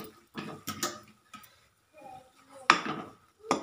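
Stuffed eggplant curry stirred in a pan: a spoon scrapes and clinks against the metal in short irregular strokes, some sharp taps standing out, close and fairly quiet.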